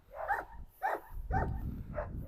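A giant poodle gives four short, close, moderately loud whimpering barks in an evenly spaced rhythm, heard indoors with no speech over them.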